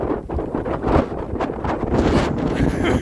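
Strong bora wind blasts across the microphone in loud, gusty roaring buffets, continuous and close, with rumbling low-end turbulence throughout.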